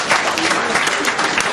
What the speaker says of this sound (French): ce que nous applaudissons des 2 mains